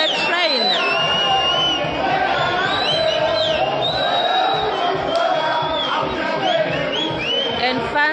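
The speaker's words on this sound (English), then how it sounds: "fans are all cheering here for their players" Fans cheering at a pool tournament, a lively crowd whooping, whistling and shouting steadily throughout, loud and close with overlapping voices.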